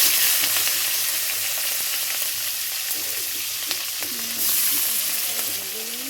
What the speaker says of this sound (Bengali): এবার চিংড়ি মাছগুলোকে ভেজে নেব।